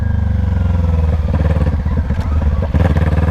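A 2021 Kawasaki Ninja 400 with a muffler-delete exhaust, loud and close, its engine burbling in a rapid steady pulse with crackling pops as the revs shift, no voices.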